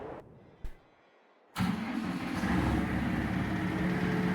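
A cabless tractor in a farming video game cranks and fires up after a short pause, then settles into a steady, loud, rumbling idle. The engine note is close and continuous.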